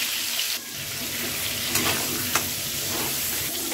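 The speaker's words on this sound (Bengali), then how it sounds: "পটলটা আমি বেশ লাল করে ভেজে নিয়েছি" Pointed gourd pieces fry in oil with a dense, steady hiss and crackle, punctuated by a couple of brief stirring knocks, close and unaccompanied by speech.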